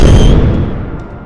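A single firecracker blast bursts loud and close in an abandoned factory setting, then decays into a fading rumble over about a second.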